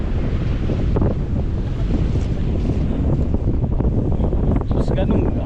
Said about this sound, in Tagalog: Sus, ganun hangin na yun.